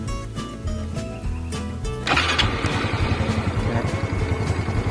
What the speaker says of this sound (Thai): เราก็ สตาร์ทเครื่องฮะ เพื่อที่จะวอร์มเครื่องยนต์นะครับ